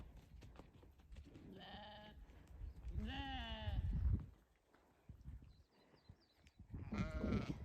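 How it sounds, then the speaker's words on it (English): Sheep bleat repeatedly on a farm as they run, with several clear, fairly close cries spread across the stretch and quieter rustling movement in between. "And the sheep are running."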